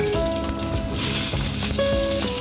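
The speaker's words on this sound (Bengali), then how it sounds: "আমি প্রথমে দিয়ে দেব রসুন।" Garlic sizzles in hot white oil in a pan while pan-fried momo is being made, giving a steady, close crackle that lasts the whole short stretch.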